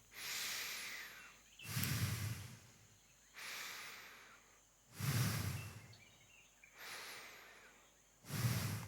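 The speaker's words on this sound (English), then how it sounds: "Sounds a bit intense, my breath through the microphone" Slow, deep breaths during a breathwork session are taken close to the microphone, alternating between a long, airy hiss and a heavier, louder rush of air, about three full cycles with no talking.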